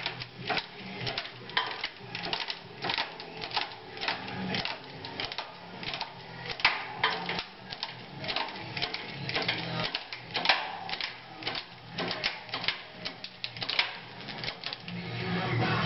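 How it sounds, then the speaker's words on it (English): Electrical sparking from a hydraulic press power supply arcing through failing, electrified wood: a dense, continuous rapid crackle of sharp snapping clicks, steady and fairly close throughout. "Hear it sparking?"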